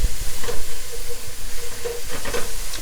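Ginger powder and garam masala toast together in a hot pan, giving a steady close hiss and faint sizzle with light stirring scrapes running throughout.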